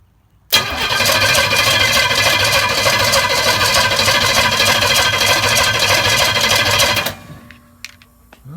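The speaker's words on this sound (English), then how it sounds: "Well, the good news is it cranks." A 1969 Pontiac Firebird engine cranks loudly and continuously for about six seconds without catching. The starter chugs at an even rhythm up close, then stops abruptly, leaving a quiet workshop.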